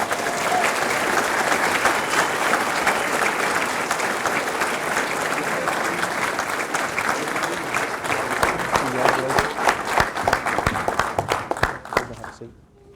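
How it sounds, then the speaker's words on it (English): Long, steady applause from a ceremony audience at an Army-Baylor MHA/MBA class ceremony, dense clapping from many people that holds strong, turns into more distinct individual claps near the end and then dies away. "Please join me in giving them all an applause."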